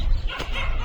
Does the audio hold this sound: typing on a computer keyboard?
no